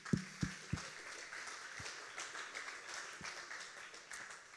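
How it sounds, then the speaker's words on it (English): A Sunday morning church congregation applauds a student camp fundraiser with soft, spread-out clapping that sounds distant and faint, a few sharper claps standing out at the start. "So just clap it up for that."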